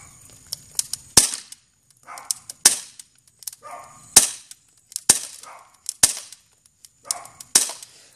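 An airsoft gun fires BBs in sharp, loud cracks, about a dozen shots over several seconds in an irregular rhythm, each followed by a brief rattle or impact, with no one speaking.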